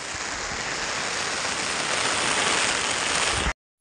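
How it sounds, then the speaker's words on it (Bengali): Heavy rain pouring down outdoors, a dense, even roar of falling water that stays steady and loud, then stops abruptly just before the end. "আর আমরা এখন বৃষ্টিতে ভিজে একাকার হয়ে গেছি।"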